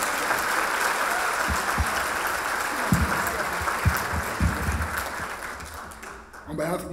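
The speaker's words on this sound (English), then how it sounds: "Let's give another round of applause." Audience applause at an African American Museum of Iowa history gala, a steady wash of clapping from a large crowd in a hall, with scattered louder claps and a voice starting to speak near the end.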